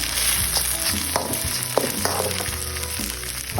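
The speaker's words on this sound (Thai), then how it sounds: "ผัดไปนะคปับด้วยผัดผัดให้มันเข้ากัน" Food is stir-fried in a pan, giving a loud continuous sizzle close up, with a clatter of spatula scraping and tossing mixed in at an uneven pace and no talk.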